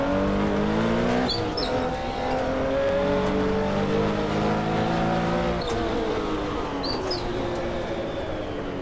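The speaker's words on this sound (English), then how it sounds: "There's the characteristic power slide of the 917." Porsche 917 race car at the 1970 24 Hours of Daytona sliding through a corner, its engine a loud, continuous roar with shifting pitch heard up close, with faint chirps in the background.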